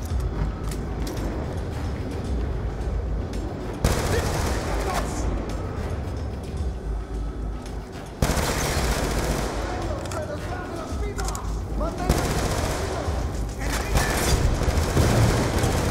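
Sustained machine-gun fire and booming shots in Call of Duty: Black Ops 2 rattle on almost without pause, loud and close, with voices talking over the gunfire.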